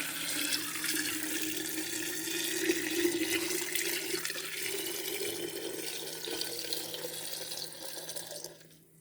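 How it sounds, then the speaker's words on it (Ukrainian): Hot water streams into a glass jar of apple compote in a steady, hissing gush that fills the room for about eight seconds before cutting off, with no voices. "Тепер доливаю вже горячу воду."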